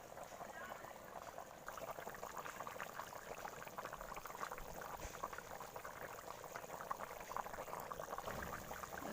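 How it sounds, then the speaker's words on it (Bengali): A homestyle meat curry bubbles steadily in a large kadai, giving a continuous close, dense boil with a faint voice underneath. "এবার ফুটতে শুরু করবে দেখো কি সুন্দর ফুটছে"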